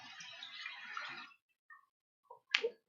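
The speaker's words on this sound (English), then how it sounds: "I am going to just very quickly wash this brush with some soap and water." Water runs from a kitchen tap onto a paint brush being washed with soap, a steady splashing flow that stops, followed by a few small drips and clinks.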